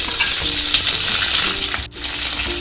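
Carrot and cauliflower for pav bhaji drop into a hot pan with cumin seeds, setting off a loud, dense, continuous sizzle that dips briefly near the end.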